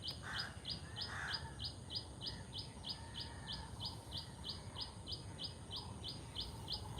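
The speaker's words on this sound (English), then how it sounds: "Nearby, that's a tailor bird." A tailorbird calls in a Colombo cemetery in the morning, a rapid, regular series of sharp, repeated chirps delivered nearby at a steady pace, with other birds calling faintly and a constant background hum.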